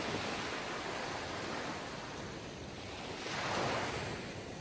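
Sea waves rolling in with a steady hiss of surf, one swell building and breaking near the end, soft and continuous with no voices.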